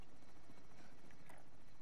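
In the video game Call of Duty: Warzone, a helicopter gives a steady rhythmic rotor thump with a dense, noisy roar. It sounds moderately close and stays constant.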